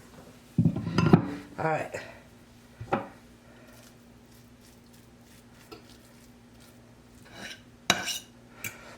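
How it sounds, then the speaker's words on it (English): Utensil scraping inside a glass baking dish, clearing out leftover stuffing: a few sharp clinks and scrapes cluster early, then sparse scattered scrapes. A brief spoken word comes in partway. "Scrape out the glass. Get the rest of it out."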